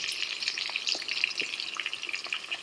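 Potato pieces fry in hot oil with salt and turmeric, a dense close crackling sizzle with small spitting pops and light stirring, steady and alone.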